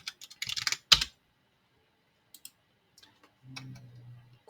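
Fingers type a login password on a computer keyboard in a quick cluster of close key clicks, then a few scattered taps, with a faint low hum near the end.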